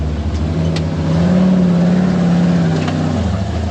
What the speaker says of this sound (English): so let's see what the new motor does.